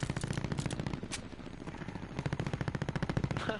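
Rapid LMG fire from the video game Warzone rattles in long, dense bursts, loud and close, with the rounds coming in a fast, even stutter.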